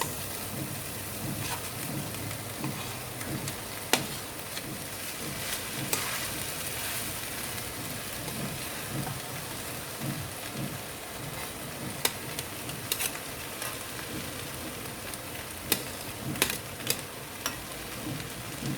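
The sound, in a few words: rice being added and stir-fried with vegetables in a pan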